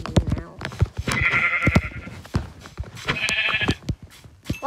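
Sheep bleat twice in drawn-out, wavering calls, close and loud, mixed with rapid clattering and knocking sounds and some talk between the calls.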